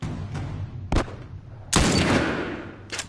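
Gunfire crackles during a firefight in The Last of Us, with several sharp, loud shots in quick succession, one longer burst and a final crack, over a low background hum.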